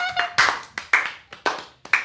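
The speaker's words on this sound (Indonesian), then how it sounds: "beri aplaus semuanya" Several bursts of hand clapping from a small group at an Indonesian public speaking presentation, rising and fading in quick rounds, fairly close and with no talking over it.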